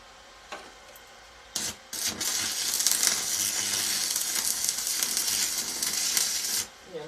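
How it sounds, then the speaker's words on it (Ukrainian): A Paton Eco 160 welding inverter arc at maximum current crackles and hisses steadily for several seconds after a few sputtering starts, loud and dense, then cuts off abruptly, with no speech. "Дуга співає."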